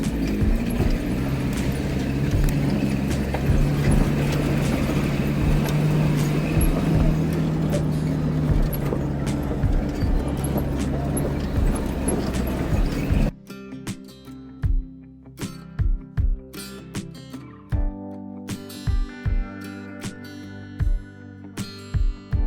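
A jeep grinds up a steep, badly broken mountain road near Kalam, with a steady engine drone and rattling, then sharp knocks and jolts as the body bounces over rough ground.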